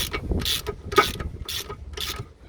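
Bolts being tightened on a Golf 4 steering knuckle, heard as about five short bursts of ratchet clicking in a steady rhythm, close and fairly loud with no talk.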